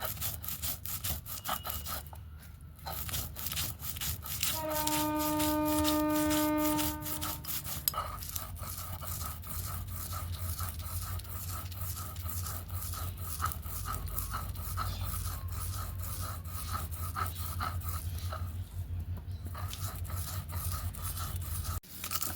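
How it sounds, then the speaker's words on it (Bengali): Boiled peanuts being ground on a Bengali shil pata grinding stone, a continuous rhythmic rasping scrape of stone on stone, close and steady, with a brief tonal hum early on. "এখন বাটনা বেটে নেব শিলপাটায়।"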